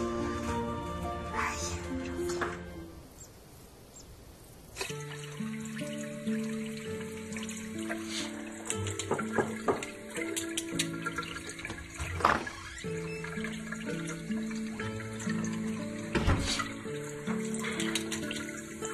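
Tap water runs steadily into a sink in a home, with splashing and clinking of dishes mixed in, briefly quieter near the start before the flow resumes at moderate volume.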